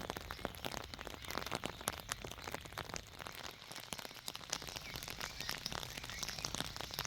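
Rain falls steadily outdoors on a sheep farm during lambing season, a dense patter of drops and crackly hits on surfaces, continuous and fairly close, with no voices.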